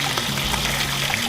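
Hot water runs steadily from a tap, a close, even rushing stream with no pauses or talk.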